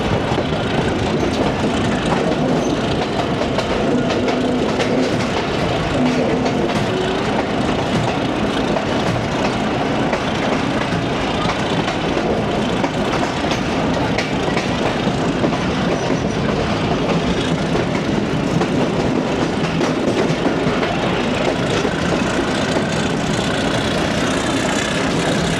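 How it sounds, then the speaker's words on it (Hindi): A branch-line shuttle train's wheels clatter steadily over the track on the morning run from Multan Cantt toward Kot Addu Junction, with the locomotive engine droning muffled underneath, a loud continuous ride with no one talking. "मज़ेदार सी ट्रैक साउंड और लोकोमोटिव की भी दबी दबी आवाज़ पहुंच रही है इधर"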